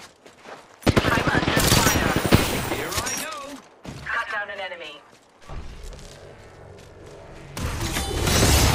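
Automatic gunfire bursts from an Apex Legends match, a loud, dense fusillade and rapid machine-gun fire that comes and goes over several seconds, with game effects and people talking throughout.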